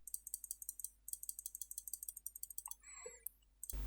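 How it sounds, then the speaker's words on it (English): Rapid, quiet mouse clicks in a quick irregular rhythm, followed by a brief scraping shuffle and an abrupt thump at the end. "do some mouse clicking"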